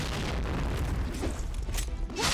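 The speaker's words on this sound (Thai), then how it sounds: "ระเบิดระเบิด" In the online shooter Point Blank, the Last Laugh Hammer sets off a booming explosion amid dense game noise, with sharper bursts near the end.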